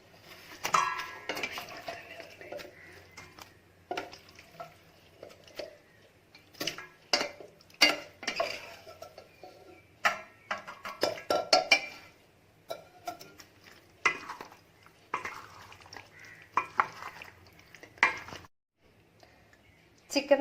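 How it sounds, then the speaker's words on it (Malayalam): Chicken pieces are mixed into a garlic marinade in a bowl, with a busy run of clinking spoon strikes and wet stirring scrapes, close and irregular, pausing briefly near the end. "ഇനി നമുക്ക് ഇതിലേക്ക് ചിക്കൻ ഇട്ട് നന്നായിട്ടൊന്ന് മിക്സ് ചെയ്ത് കൊടുക്കാം"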